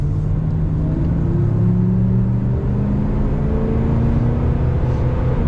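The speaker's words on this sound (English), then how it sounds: "We got lots of power coming from that engine." A 1990 Chevrolet 1500 454SS pickup's big-block engine drones loud and steady from inside the cab while driving, its low rumble gently rising in pitch as the truck pulls, with no voices.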